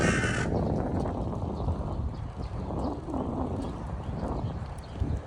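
A crow caws a few times in the distance over steady early-morning outdoor ambience in Japan, with a faint clopping rhythm running underneath.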